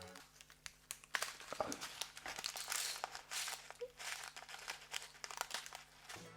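A plastic packet of orange diamond painting beads is opened, giving steady close crinkling and crumpling with a few sharper tearing bursts, and faint background sounds throughout.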